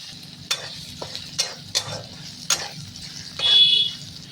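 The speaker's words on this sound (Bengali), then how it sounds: "এবার আমি পনিরগুলো ভেজে নিচ্ছি" Paneer pieces frying in a pan make a soft, continuous sizzle, with a handful of crisp spatula taps and scrapes spaced about half a second apart and a brief louder hiss at the end.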